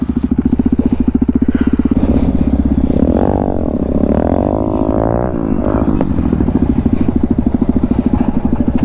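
Apache motorcycle engine running hard during a circle wheelie stunt, a loud close buzzing drone that rises and warbles in pitch through the middle before settling back to a steady throb.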